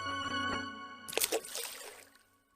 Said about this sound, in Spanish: el sonido de una rana zambulléndose en el estanque de un templo